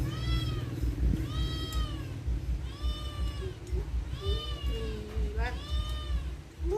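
A cat meows repeatedly, about four drawn-out calls at steady intervals, close by over a low rumbling background.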